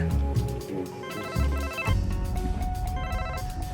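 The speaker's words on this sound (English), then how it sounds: "your phone ain't stopped ringing since you've been sitting here." A mobile phone rings with a looping electronic melody of bright repeating tones, steady and fairly close, sounding continuously without talk over it.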